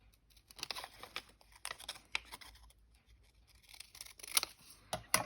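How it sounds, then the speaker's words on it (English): Cheap children's scissors cut paper for a collage, making a string of faint, crisp snips with soft paper rustling between them, heard close and alone. "these scissors are really a dime a dozen"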